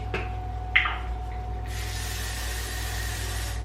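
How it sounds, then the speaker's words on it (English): A couple of short clicks and spritzes, then a sustained hissing spray of a pump bottle of heat protectant hair spray, close and fairly loud. "I'm just gonna put in my Way Heat Protectant Spray."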